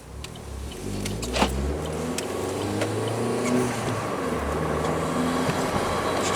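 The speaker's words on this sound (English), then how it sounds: "Listen to those rotors grind all that rust off." An older vehicle pulls away with brake rotors grinding off surface rust, a steady low engine and road rumble carrying throughout with a brief scrape near the start, heard up close without speech.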